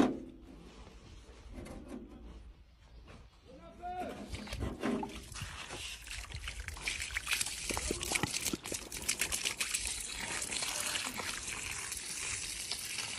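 Water washes over crushed rock powder to extract gold, first as quiet sloshing, then as a louder, continuous splashing and trickling rush, with a voice speaking faintly under it.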